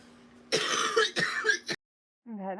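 A few harsh, throaty coughs or throat-clearing bursts over about a second, fairly close, followed by a short pause and a brief voiced sound.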